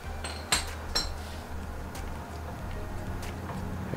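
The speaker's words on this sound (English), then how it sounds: "I just remove the socket" A socket being pulled off the oil drain plug of a Kawasaki FX1000V EFI engine during an oil change, with a few sharp metallic clinks early on over a low steady hum, close by.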